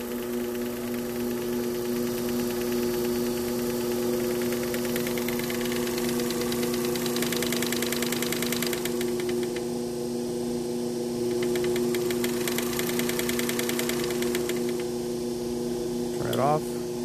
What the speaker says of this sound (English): we'll go ahead and turn it on now. Rotate the RPMs to high.